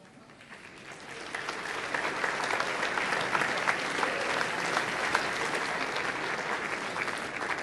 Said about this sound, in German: Also ihr klatscht.